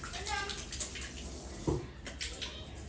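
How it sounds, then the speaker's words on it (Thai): Hands are washed under running water: a steady, close hiss of flowing water with splashy bursts as the hands move through the stream, with faint voices in the background. "โอเคขอล้างมืออีกรอบเพื่อความสะอาด"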